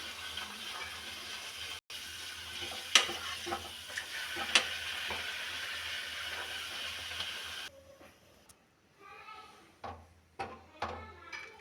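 Puri frying in hot oil, a steady soft sizzle with occasional bubbling pops that gives way to quieter, separate spatters and crackles near the end, with no talking.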